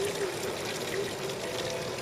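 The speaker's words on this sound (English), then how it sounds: "The water supply" Water pours steadily from a town water supply in the old town of Rothenburg, Central Europe: a continuous, even trickle and splash, close and moderately loud, with no breaks.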